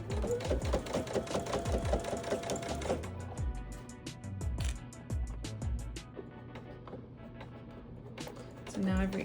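A sewing machine stitches down a jelly roll fabric rope, its rapid mechanical whir running in bursts with pauses while a person talks over it.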